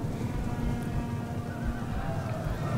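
Horses of Median cavalry in the video game Total War Rome II neigh and whinny amid the clip-clop of hooves, a continuous, fairly loud battlefield sound with faint talk underneath.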